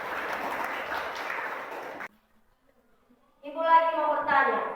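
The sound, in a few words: classroom applause, clapping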